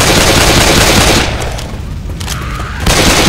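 Dense, continuous automatic gunfire aimed at zombies in Left 4 Dead 2, loud and sustained, dipping briefly in the middle before surging back at full intensity.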